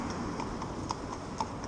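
Pony hooves clip-clop at a steady, even rhythm near a stable building, several distinct strikes ringing out over a low background rumble with no talk.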